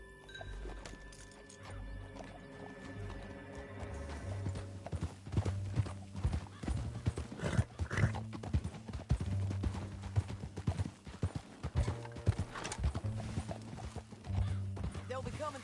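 Horse hooves clip-clop steadily as a rider moves off at a walk to follow others, with a brief whinny and faint jingling tack, the hoofbeats moderately close and fairly quiet under occasional speech.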